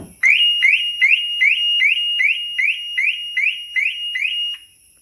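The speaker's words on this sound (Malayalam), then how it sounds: "ഈ വണ്ടി അലാം അടിക്കും" A Toyota or Maruti Suzuki car's shock-sensor alarm, set with the smart key, sounds a loud, close series of about eleven identical rising electronic chirps at an even, quick rhythm, then stops.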